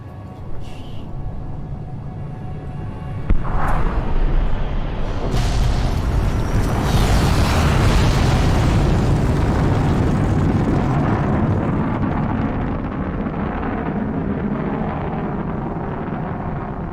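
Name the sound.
missile explosion in video game Fallout New Vegas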